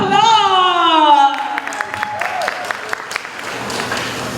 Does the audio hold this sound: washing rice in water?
no